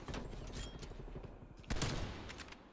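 Sniper gunfire in the video game Black Ops Cold War, a continuous dense burst of gameplay shots with one sharp louder report near the end, no voices.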